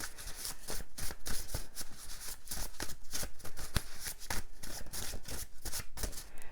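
Rapid, continuous riffling of a deck of cards, crisp papery flutters repeating in quick bursts, close up with no talking.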